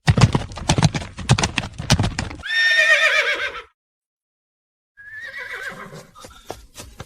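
A spirited horse borrowed from a general clip-clops with rapid, loud hoofbeats, then lets out a long shrill whinny, falls silent, and whinnies again more softly, with a few hoof thuds after.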